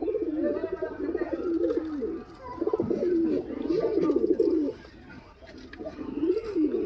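Giribaz pigeons coo in close, repeated throaty phrases. The soft rolling bursts come one after another, with brief pauses between them.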